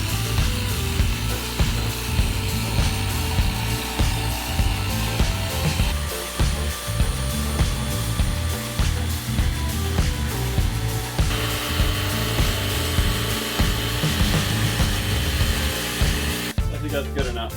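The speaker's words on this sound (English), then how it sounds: "I got some laminate blades. These things cut like freaking butter with these Palisade tiles." A power saw with a laminate blade cuts Palisade tiles during a vintage Airstream shower build. A loud, continuous whining buzz with shifting grinding tones runs throughout, with a brief change near the end.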